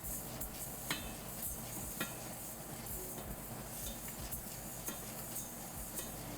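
A utensil stirs food in a pot over a low, constant kitchen background, with faint scraping and light clinks at irregular moments and no voices.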